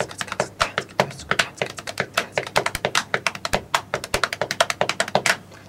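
Drumsticks tap lightly and rapidly on a drum kit, with a dense, uneven pattern of crisp close strikes and a few heavier low thumps mixed in, with no voices.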